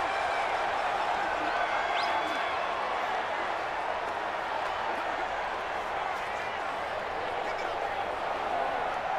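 A simulated stadium crowd roars during a Madden 20 NFL game between the Carolina Panthers and Minnesota Vikings: a continuous, dense wash of cheering and crowd noise, steady and loud throughout with no breaks.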